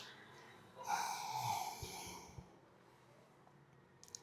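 A single long exhale during a yoga forward bend, a soft breathy rush that swells then fades, heard close and alone in a quiet room.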